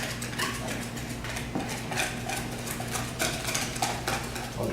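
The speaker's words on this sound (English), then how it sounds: "I'm going to add a 1/2 cup of Parmigiano Reggiano cheese, and we're going to whisk that together." A whisk scrapes and clinks against a mixing bowl, beating egg yolk with Parmigiano Reggiano cheese. The metallic strokes come fast and rhythmic, close but fairly quiet, with no one talking.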